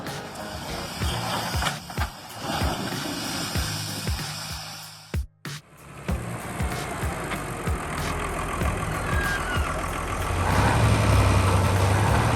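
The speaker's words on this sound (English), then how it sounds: "The engine roars again as the familiar sight appears." A Ural truck engine roars while stuck in deep mud, a heavy low rumble that runs almost continuously, drops out briefly midway, then returns and swells louder toward the end.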